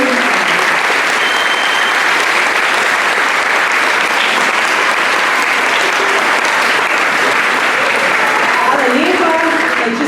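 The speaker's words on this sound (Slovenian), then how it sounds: "tako da je poseben aplavz njej" A school audience at an end-of-year and Statehood Day ceremony breaks into dense, loud, sustained applause that fills the whole stretch without a break.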